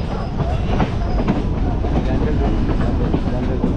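A Sealdah to Katwa local train runs near Bandel, a loud, continuous rumble of wheels and carriage noise with a faint clickety-clack, heard from on board.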